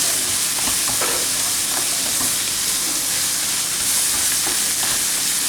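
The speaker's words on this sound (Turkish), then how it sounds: "Salçamız bayağı kavruldu." Tomato paste cooks in a hot pan and is stirred, making a loud, continuous close sizzle and hiss with scraping and occasional utensil clicks, and no voices.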